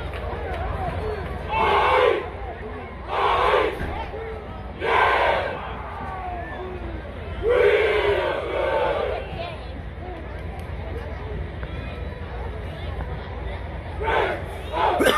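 A stadium crowd at a marching band invitational roars and cheers for Savannah State University's band, with loud surges of shouting and whoops rising and falling over steady babble and talk.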